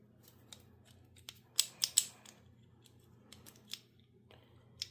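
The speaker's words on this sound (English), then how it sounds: "I believe now you rotate the bolt head" The bolt head of an MP5 being rotated during field stripping, heard as faint close metallic clicks and a quick cluster of three sharper snaps, with no talk.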